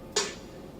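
A single sharp snare drum hit, bright and crisp with a short ringing tail, alone against near silence.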